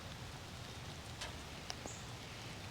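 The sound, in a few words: light rain in a garden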